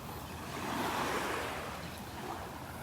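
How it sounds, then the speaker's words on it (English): Tiny ocean waves lapping on Vanderbilt Beach in the morning, a soft steady wash of surf that swells gently and then eases, heard alone with some breezy background. "Boy, there's just nothing here, just the tiniest of waves."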